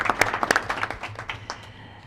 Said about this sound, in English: I'll clap anytime.